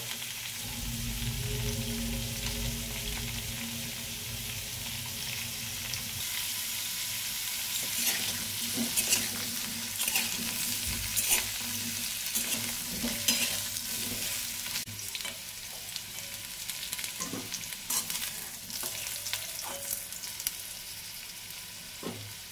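Papaya pieces fry in oil in a wok with a steady, close sizzle, with intermittent scraping and stirring clicks growing busier partway through.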